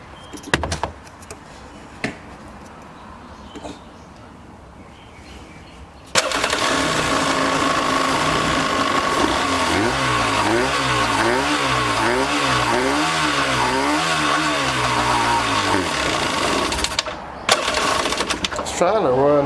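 An abandoned 1995 Yamaha WaveRunner jet ski with a two-stroke engine cranks after several seconds of quiet knocks, then catches and runs loud and rough with a buzzing, wavering idle before cutting out near the end.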